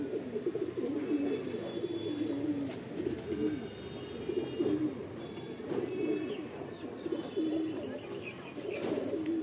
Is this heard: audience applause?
no